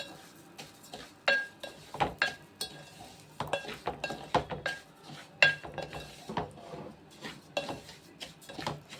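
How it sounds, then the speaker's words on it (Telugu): Semolina roasting in ghee in a pan is stirred with a spoon, giving a steady run of scraping strokes and light metallic clinks against the pan, moderately close, with no voices. "ఇప్పుడు మనం మన రవ్వని బాగా మంచిగా వేగేంత వరకు కొంచెం ఎర్రగా వేయించుకుంటే"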